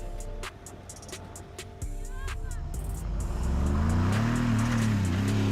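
A Mercedes G63 with all locking differentials engaged goes to full throttle on a hill, its engine rising into a loud sustained roar as the wheels slip, preceded by rapid clicks and a mechanical clunk.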